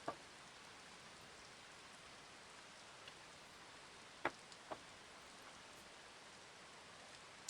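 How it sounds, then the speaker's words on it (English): Steady rain falls outdoors as a constant hiss of drops on surfaces, with a few faint ticks and taps poking through; no one talks over it. "Can you guys see the rain? Is it a good volume?"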